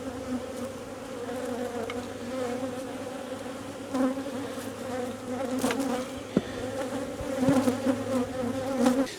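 Honey bees swarm around an open hive during a split as queen cells are placed, making a dense, droning buzz close by that swells louder and softer with occasional sharp knocks, and no one speaks.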